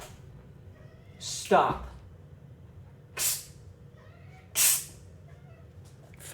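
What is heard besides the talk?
cat meowing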